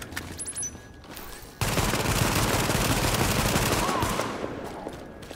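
An automated turret in the video game Tom Clancy's The Division opens up with a sustained, loud burst of rapid machine-gun fire after a brief electronic chirp.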